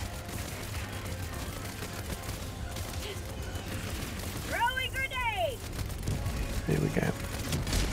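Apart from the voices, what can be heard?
grenade explosions in video game Helldivers 2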